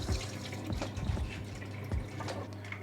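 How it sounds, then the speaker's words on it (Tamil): Rice being rinsed in water and drained in a kitchen, a steady wet swishing and trickling with small splashes and drips, close and moderately quiet, no voices. "இப்போ இந்த அரிசியை நல்லா கழுவி தண்ணியை ஒட்ட வடிக்கணும்"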